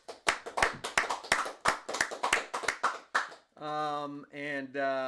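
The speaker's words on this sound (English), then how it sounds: "Boy, that was probably loud, clapping into the microphone like that" Hands clapping right into a microphone in a home media room, a fast, loud, uneven run of sharp claps that gives way to a voice.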